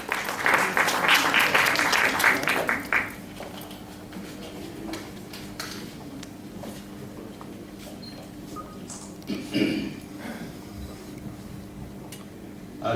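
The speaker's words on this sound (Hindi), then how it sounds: "जोरदार तालियों के साथ।" An audience at a Father's Day school event applauds loudly to welcome an invited guest speaker; dense clapping fills the first three seconds, then drops to quiet room noise with scattered faint taps and murmurs.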